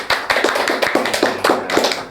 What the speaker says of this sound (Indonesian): Wah, keren. Tepuk tangan.